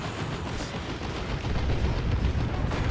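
Tank cannon fire in the video game Warhammer 40,000: Dawn of War 2, heard as a dense, continuous roar of booming blasts and rumbling gunfire, loud and steady, growing heavier toward the end with no voices.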